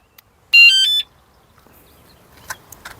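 A van's anti-theft alarm, set at the door, gives its activation signal: one loud, short electronic beeping tone, followed by quiet handling clicks and faint taps.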